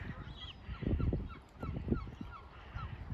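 Geese and other waterfowl calling in a country park, a cluster of low honking calls that sound fairly close, with a soft background and no clear talk.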